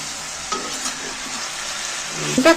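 Spinach and paneer mixture being stirred in a pan, a steady soft sizzle with a few scraping strokes and light utensil clinks toward the end, close and without voices.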